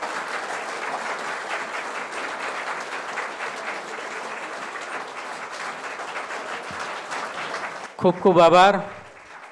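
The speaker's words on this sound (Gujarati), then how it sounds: "તાળીઓના ગડગડાટ સાથે હું સેકન્ડ જોઉં છું કે કેટલી સેકન્ડ આપણે એમને" An audience applauds women on Women's Day in Gujarat, sustained clapping that stays steady for several seconds, then a voice speaks briefly at the end.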